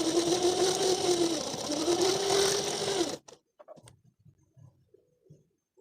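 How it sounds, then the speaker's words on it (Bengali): A sewing machine stitches the neckline fabric of a boat-neck princess-cut blouse in a steady, loud whirring run of about three seconds, then stops abruptly, leaving a few faint handling noises. "এখন আমি কাপড়টা এখান থেকে, গলার কাপড়টা যে আছে এখানে সাইড থেকে সেলাই করে নেব"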